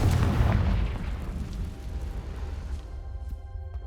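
A fiery blast from the Confringo spell in the Hogwarts Legacy video game, one loud booming burst at the start that rumbles and fades into a low sustained tail.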